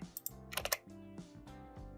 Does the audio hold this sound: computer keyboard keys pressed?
yes